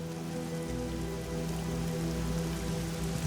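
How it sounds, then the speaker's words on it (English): Steady rain pours down in the Kalahari desert, a dense, even hiss of drops on surfaces with a low rumble beneath, constant and fairly close throughout with no voices. "But the rain brings with it a terrible worry."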